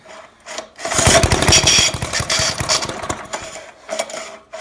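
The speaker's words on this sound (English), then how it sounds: "I gotta fix that recoil because it's loud and annoying" Recoil starter on a trash-picked tiller being yanked repeatedly, a loud rattling, ratcheting burst of rapid clicks lasting a few seconds, close up, then fading to quieter mechanical rustle with a brief second rattle near the end.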